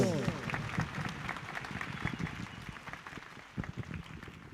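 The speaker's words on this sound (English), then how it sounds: "So in 3, 2, 1, a round of applause." A round of applause from an audience at a children's town hall, fairly faint and uneven clapping with some crowd noise, steady for several seconds before thinning out.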